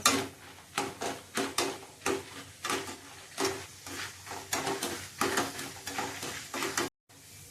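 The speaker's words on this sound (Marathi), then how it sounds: "डाळा आपण भाजून घेऊया." Split chickpea dal roasting in a pan for corn chivda, with a soft sizzle under rhythmic scraping and stirring strokes that repeat steadily, close and fairly quiet.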